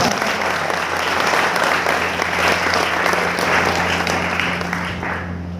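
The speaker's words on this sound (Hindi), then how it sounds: "ऐसी हमारी बहन पल्लवी विजयवंशी जी, एक बार जोरदार तालियों से आप उनका" An audience at a motivational talk gives loud, dense, sustained applause that holds steady for several seconds and then fades slightly toward the end, over a faint low hum.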